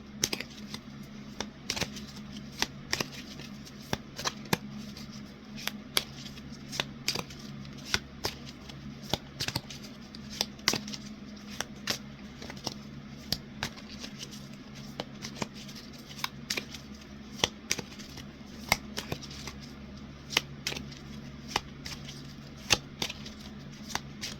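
Tarot and oracle cards are shuffled close up in a quiet room, giving repeated soft riffling flicks at an uneven rhythm over a low background hum.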